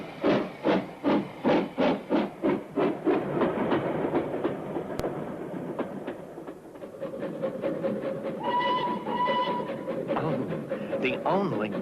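A cartoon steam train engine chugs in a fast, even rhythm, loud and close, then carries on as a steady rumble while voices talk over it and a brief whistle-like tone sounds.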